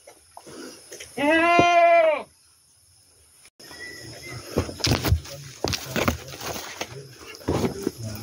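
A goat at a pen in a mountain forest gives one long, clear, wavering bleat, followed by quieter rustling and shuffling movement nearby.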